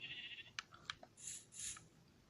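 A sheep in a single-player survival video game bleats quietly a couple of times, with soft clicks between, heard faintly and alone without talk.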